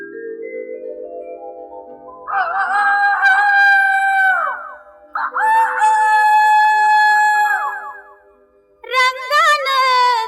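A rooster's crow is imitated by a singer's voice in a Marathi film song: long, sustained, wavering cries that come in three bursts, each loud and upfront over a light musical backing.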